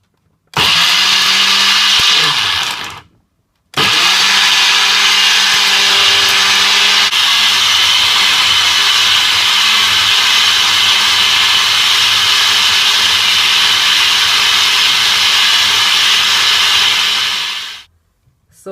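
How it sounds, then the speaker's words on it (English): A kitchen blender whirs loudly as it purees a jerk chicken marinade until smooth. It runs in a short burst, stops briefly, then roars steadily for about fourteen seconds before cutting off, with no talking. "So I'm gonna turn on my blender now."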